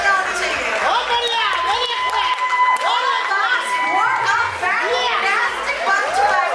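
A crowd at a film trailer launch cheers and shouts on stage, a dense wash of excited high voices and whoops that stays loud and continuous throughout, with no clear clapping standing out.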